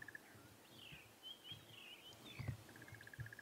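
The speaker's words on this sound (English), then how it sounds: "You can hear the crested barbet." A crested barbet calls during a subtle dawn chorus at a safari reserve, its repeated trilling notes faint and distant among other bird calls and light rustling.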